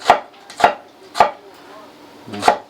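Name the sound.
knife chopping an onion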